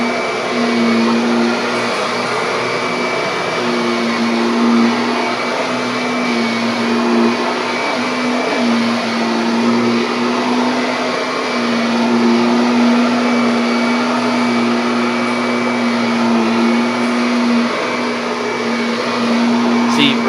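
A Kirby G6 vacuum cleaner runs continuously indoors with a loud, steady motor whine and a constant hum, holding the same level throughout without pauses.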